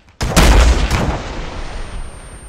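In the military game ArmA 3, a rocket launcher fires with a sudden loud close blast and a second boom follows, then a rumbling tail decays over two seconds.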